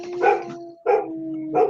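A pet dog barks at a passing siren: three loud, close, tonal barks with drawn-out ends, each followed by a brief pause, heard alone.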